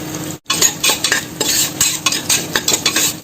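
Pieces of coconut frying in ghee and coconut oil in a pressure cooker, with a steady loud sizzle and repeated scraping of a spoon against the metal. After a brief pause the stirring carries on without speech.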